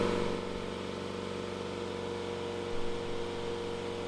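A BMW 3 Series diesel engine holds a steady idle-up near 3000 RPM during in-situ DPF cleaning, a constant humming drone with a steady tone and a slight swell near the end.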